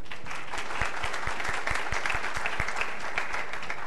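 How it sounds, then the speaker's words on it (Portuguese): Audience applause at a formal solemn session, steady dense clapping from many hands throughout at moderate level, with no voices. "uma salva de palmas para a Marina"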